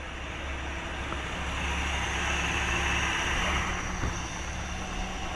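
An old vehicle engine, started after more than thirty years of sitting, idles with a steady low rumble that swells slightly in the middle, with a brief knock near the end.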